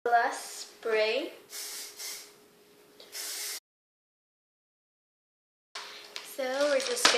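Hairspray misted onto heatless curls in two short, bright hissing bursts, close and clear, with a person's voice heard briefly before and after.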